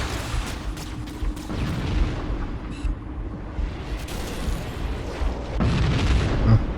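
Plasma mortar blasts in the Halo Combat Evolved Anniversary campaign, several deep booming explosions with rumbling bursts and crackling debris over a continuous loud battle din, no voices.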